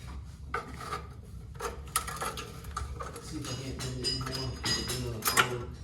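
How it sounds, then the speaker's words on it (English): Metal scraping, clinking and rattling as pliers pull a spring off a 1981 Murray race mower, with irregular close-up taps and rubs that continue throughout. "We got some pliers. Pull that off of there."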